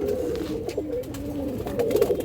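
Silver-necked pigeons at a farm coo in low, throaty rolling calls, close and steady, overlapping with soft background rustle.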